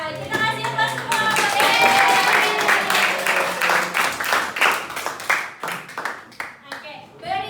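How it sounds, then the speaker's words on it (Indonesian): A classroom of students gives a round of applause, dense clapping from many hands that starts at full strength and then thins into scattered claps before fading. "Kita kasih aplaus semua"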